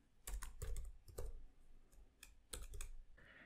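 Keys clatter on a computer keyboard in short uneven bursts, a handful of soft, close clicks separated by brief pauses, faint overall.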